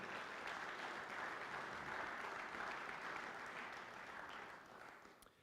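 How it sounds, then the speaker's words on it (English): An audience at a Toledo Rotary club meeting applauds in a steady, dense wash of clapping that slowly fades toward the end. "One more round of applause."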